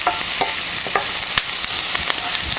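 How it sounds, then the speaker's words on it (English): Finely diced ginger and garlic hit hot oil and brown, giving a steady close sizzle with scraping stirs and a few sharp utensil knocks throughout. "I'm going to brown this to get some color on it, and I can immediately smell the ginger and garlic as it hits the oil"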